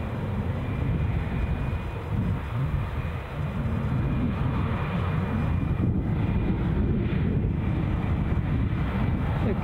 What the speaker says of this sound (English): So we're just watching British Airways park up.